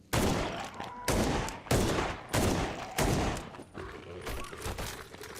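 Enemy gunfire in the video game Ground Zero, loud bursts of shooting in a regular rhythm of about six volleys, each roughly half a second long and separated by short gaps.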